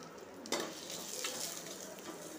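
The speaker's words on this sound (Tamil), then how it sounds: "ஒரு பாத்திரத்தில் கொஞ்சமாக லைட்டாக எண்ணெய் விட்டு தேங்காயையும் சின்ன வெங்காயமும் போட்டு வறுத்து" Grated coconut and shallots frying in a little oil in a pot for a village-style karuvadu kulambu, a quiet continuous sizzle with a spoon scraping and stirring, including a sharper scrape near the start.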